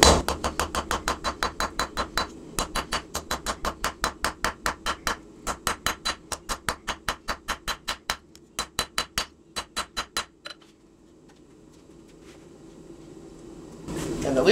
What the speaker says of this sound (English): now I can come in here and I can start forging in the tip